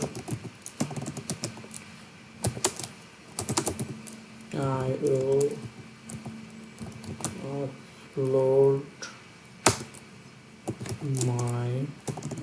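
Typing on a computer keyboard, quick irregular clicks and key taps up close, with a voice talking in between.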